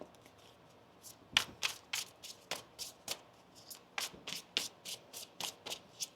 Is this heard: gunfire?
no